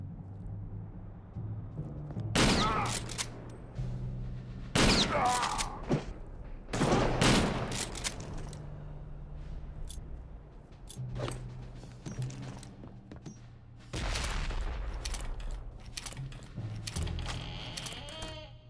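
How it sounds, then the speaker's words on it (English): Shotgun blasts in Return to Castle Wolfenstein boom in separate bursts, four or five loud cracks spaced a couple of seconds apart, with quieter game sounds in the gaps. "Wait, can I use the shotgun? I'm gonna use the shotgun."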